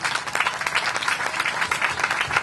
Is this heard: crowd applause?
yes